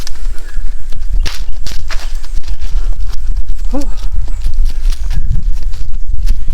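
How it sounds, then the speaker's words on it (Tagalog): Horse hooves clip-clop in a steady walking rhythm during a horse ride, close and loud under a constant rush of background noise, with people talking over them. "sumakay ng kabayo"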